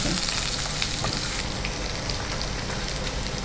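Chopped onions fry in a hot pan for a Kannada home-cooking dish, a loud continuous crackling sizzle with occasional stirring scrapes and pops, no voices present.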